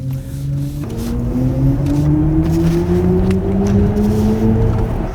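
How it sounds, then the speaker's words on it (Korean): A BMW iX 40 electric car in sport mode roars steadily and loudly on a winding road, its Hans Zimmer-designed drive sound climbing in pitch as it accelerates hard, close and continuous throughout. "강력한 배기음을 들려주실 거고"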